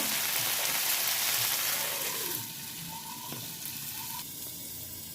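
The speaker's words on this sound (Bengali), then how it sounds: "আলু সিদ্ধটা রেখে ভেজে রেখেছিলাম সেটাকে আমি দিয়ে একটু কষিয়ে নেব সেটাকে একটু ভেজে দেবো" Boiled jackfruit and potato frying in spice paste, a loud continuous sizzle at first that settles into a quieter hiss with occasional stirring scrapes and knocks.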